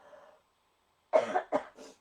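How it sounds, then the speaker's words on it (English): A faint murmur, a pause, then a close cough in three quick bursts, the first strongest. "I need to cough again."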